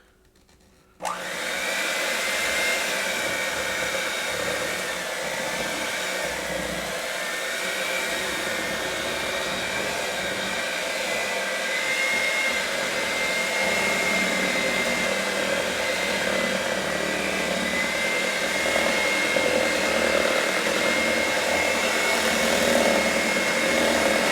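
An electric mixer beats Coca-Cola cake batter, switching on after a second and then whirring loudly and steadily for over twenty seconds alone.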